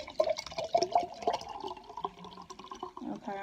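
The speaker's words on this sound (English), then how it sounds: "It's a Minute Maid watermelon. So pour it in my mason jar." Minute Maid watermelon drink poured into a mason jar, a close, bubbly liquid glug and splash running continuously for a few seconds with no talking.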